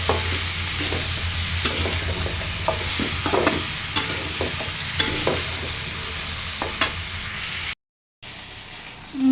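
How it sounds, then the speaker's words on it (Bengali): Frying with salt and turmeric stirred in a pan, a steady sizzle with repeated scraping strokes of a utensil, close and continuous, ending with a brief dropout. "লবণ, হলুদ দিয়ে ভেজে নেব।"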